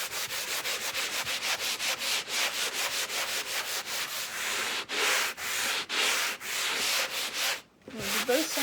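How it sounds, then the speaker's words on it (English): Wood is sanded smooth by hand with sandpaper, a close, rapid rhythm of about two dozen raspy back-and-forth strokes that slows into longer, spaced strokes near the end. "So we're going to sand a little,"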